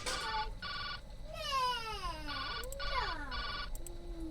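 A phone rings in a detective video game. Bursts of an electronic ringtone repeat in a steady pattern over a soft background, and sweeping gliding tones cut across them partway through.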